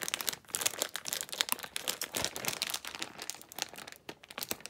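Plastic packaging crinkles and crackles as it is pried open, a busy run of close, sharp rustles and small snaps lasting several seconds with no voice over it.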